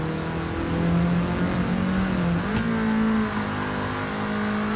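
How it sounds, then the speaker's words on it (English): A race car engine in sport mode in Gran Turismo 7 revs and holds a loud, steady droning tone, with pitch climbing through a gear change partway through. "It's like a race car now."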